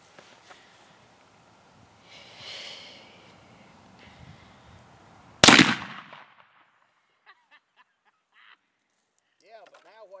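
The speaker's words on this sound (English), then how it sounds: "That is a 58 caliber muzzle loading slug rifle. You talk about a boom." A single loud gunshot from a .58 caliber muzzle-loading slug rifle, a sharp, booming crack with a short rumbling tail, standing out from quiet outdoor surroundings with faint voices and scattered small sounds before and after.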